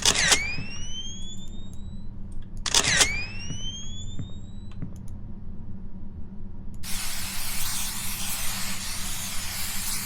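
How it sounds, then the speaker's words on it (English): In a story-driven horror video game, a spray can is picked up with two sharp chirping clicks, followed by a loud continuous hiss of spraying that runs for several seconds. "Spray can."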